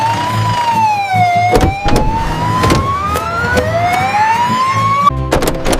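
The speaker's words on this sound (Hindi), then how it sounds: "एम्बुलेंस यहाँ है।" An ambulance siren in a 3D animation, wailing loudly and steadily in a slow rising and falling sweep close by, with engine rumble and a few thumps beneath.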